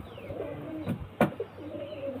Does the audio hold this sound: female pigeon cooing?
yes